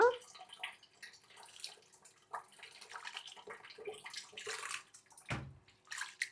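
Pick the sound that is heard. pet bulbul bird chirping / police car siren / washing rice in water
washing rice in water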